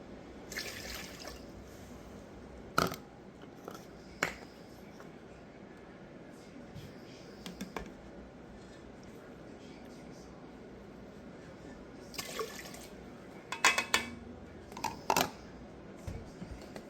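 A measure of white vinegar is poured for homemade dill pickles, with soft, intermittent liquid splashes and trickles over a quiet kitchen background, coming in a few separate bursts near the start and again toward the end.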